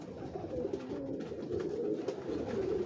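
Pigeon coos softly on a Lahore rooftop, a low repeated throaty warble in a steady rhythm, fairly close over faint outdoor background noise.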